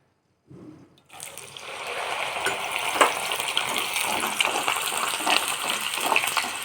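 Moong dal drops into hot oil on a medium flame and sizzles, a sudden burst of crackling frying that builds and stays loud and steady.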